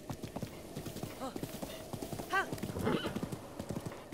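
A horse in Zelda Breath of the Wild, its hooves clip-clopping in a steady trot, then a loud neigh and whinny near the middle, with quiet talk underneath.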